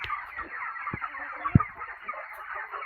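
Chickens on a farm field cluck in a soft, steady murmur with a few sharper calls standing out, fairly close and with no talking over them.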